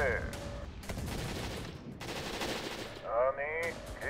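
Tank cannons and gunfire in a WWII-style Oriental Conflict mod for a strategy game, firing in dense overlapping bursts against a steady battle din, with two brief harmonic tones at the start and near the end.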